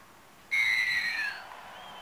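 A referee's whistle in the Wii rugby game Rugby League 3, one loud, shrill blast that starts sharply, holds for about a second and then fades, with quiet background before and after.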